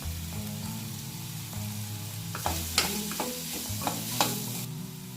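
Ginger garlic paste and turmeric sizzle in a pan for a pointed gourd curry, a soft even frying hiss broken by a few sharp scrapes and taps of a stirring spoon, close and fairly quiet.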